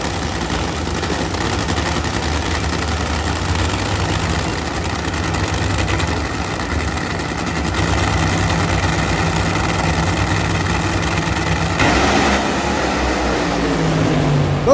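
Pro Superstar drag racing cars at Bradenton Motorsports Park, loud engines idling and rumbling on the line, rising into a harsh, building roar near the end as they launch.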